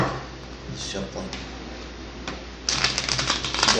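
Soft shuffling and riffling of tarot cards, building to a louder burst of rapid flicking near the end, with faint background noise.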